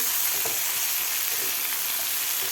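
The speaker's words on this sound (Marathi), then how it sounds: "टोमॅटो आणि कांदा व्यवस्थित फ्राय करून घ्यायचा आहे तेलामध्ये" Tomato and onion frying together in oil for a paneer curry, a continuous even hiss of sizzling close by with faint occasional stirring, no talking.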